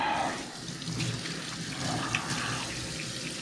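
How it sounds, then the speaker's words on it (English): Running tap water splashes over hands being washed at a kitchen sink, a close, steady rush and patter with no talk. "Wash my hands."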